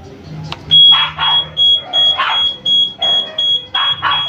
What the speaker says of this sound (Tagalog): Ito yung pinaka-buzzer natin.